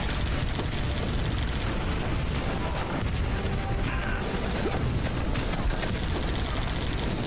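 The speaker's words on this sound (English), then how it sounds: "3 anti-aircraft guns all holding out here." Anti-aircraft guns firing in the video game Guns Up!, a dense, loud, continuous barrage of rapid shots and blasts with no break.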